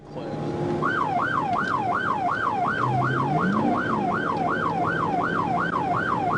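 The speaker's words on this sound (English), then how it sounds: "They immediately activated their emergency lights and siren, made a U-turn, and initiated a pursuit." A police car siren wails during a high-speed pursuit, heard from inside the cruiser with a rapid, steady rising-and-falling yelp, loud and close, over road and engine noise.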